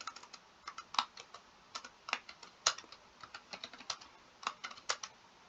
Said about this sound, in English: I'm typing in the dark, so excuse all the errors